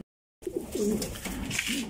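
Close, soft cooing from breeding pigeons in a loft: a few low, throaty warbling coos follow a brief silence, quiet and near, with no talking.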